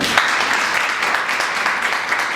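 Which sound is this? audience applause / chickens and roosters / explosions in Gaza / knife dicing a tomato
audience applause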